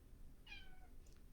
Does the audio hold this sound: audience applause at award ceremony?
no